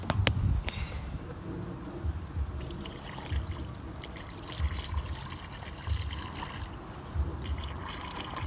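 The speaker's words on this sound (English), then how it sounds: "I'm going to put coolant in it, see if it can hold coolant" Coolant trickles and splashes as it is poured into a Honda Civic radiator, an uneven liquid gurgle with intermittent bursts, fairly close and unaccompanied by speech.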